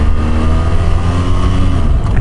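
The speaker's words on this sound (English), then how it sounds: "more crude sound to it as the engine starts spinning" A 2007–2012 BMW F800ST parallel-twin motorcycle engine running close up, a loud, low, steady throbbing idle with a rough, uneven pulse and no voices.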